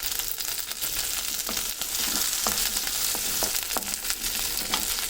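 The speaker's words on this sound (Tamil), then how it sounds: "பாருங்க, இந்த மாதிரி சின்ன வெங்காயம் நல்லா வதங்கிருச்சு." Small onions (shallots) sautéing in oil for a village-style dry fish curry: a steady sizzle with spatula scrapes and stirs landing roughly once a second, close and clear, with no talking.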